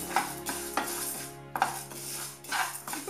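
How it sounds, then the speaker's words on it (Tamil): Four kinds of lentils dry-roasting in a pan for methkut powder, heard as several rattling, scraping stirs of dry grains against metal, close and moderately loud, with brief quieter gaps between strokes. "இது நம்ம நிதானமாக வறுக்கலாம் நாலு பருப்பையும்"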